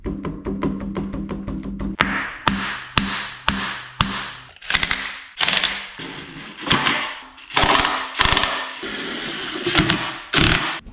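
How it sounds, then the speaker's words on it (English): A ratchet tightens the oil pan bolts on a 1966 Mustang engine, starting with a quick run of fast, close clicks and then moving into repeated short bursts of ratcheting strokes with small pauses between them. "Then I'll tighten the whole oil pan up to the assembly and it'll be done."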